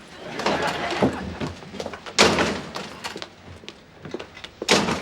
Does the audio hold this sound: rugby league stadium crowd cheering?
no